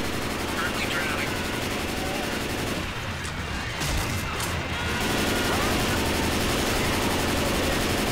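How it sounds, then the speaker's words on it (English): Guns firing at zombies in the Left 4 Dead 2 video game: rapid, dense automatic gunfire roaring almost nonstop with a brief lull in the middle, while players talk over it. "No matter how many zombies I shoot, they just keep on coming"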